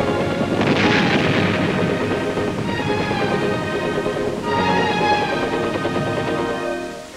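Explosive charges detonate inside an underground enemy tunnel complex, producing loud, continuous rumbling blasts and crackling roar that fill the whole stretch before fading at the end.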